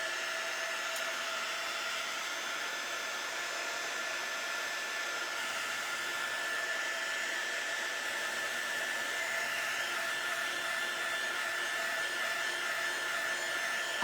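A hair dryer blows steadily and close by for the whole stretch, drying paint on a rolling pin with a constant whooshing whine.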